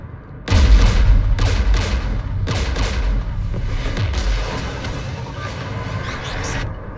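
Anti-aircraft guns fire on the player in Mass Effect 3, with a loud run of booming gunfire and thuds that comes in bursts and keeps rumbling on behind it.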